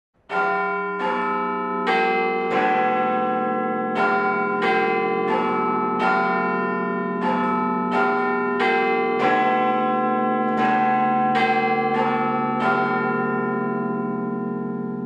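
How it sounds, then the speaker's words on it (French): The large bell of the Palace of Westminster clock tower chimes the hour in a loud, resonant peal, each strike blooming and overlapping the next in an irregular chiming sequence. "une foule de plus d'1 millier de personnes s'était rassemblée au pied du palais de Westminster pour entendre la célèbre cloche"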